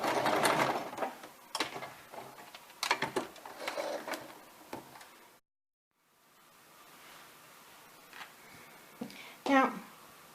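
A sewing machine stitching a quarter-inch fabric seam, running slowly in short bursts with clicks and a hum up close. Someone speaks over parts of it, and the sound breaks off in a short silence partway through.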